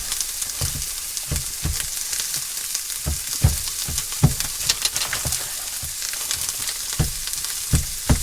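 Onions fry in a tray inside a motorhome, crackling and sizzling steadily with repeated sharp scraping stirs punctuating the hiss.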